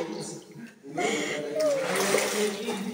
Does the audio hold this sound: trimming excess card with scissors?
no